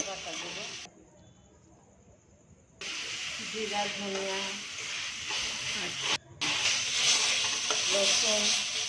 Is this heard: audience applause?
no